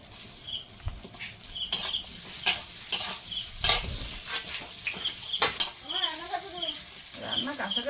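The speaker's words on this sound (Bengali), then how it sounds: "পেঁয়াজ কুচি দেবো তেলের মধ্যে।" Chopped onion frying in hot oil in a home kitchen pot, with a steady sizzle, scattered sharp stirring clatters of a utensil against the pan, and brief faint voices in the background.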